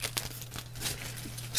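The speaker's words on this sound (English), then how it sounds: "You just stab the thing needlessly with scissors" Scissors stab and tear through the plastic wrap on a Pokémon Ultra Moon booster box, giving short crinkling and ripping bursts close up with a faint low hum beneath.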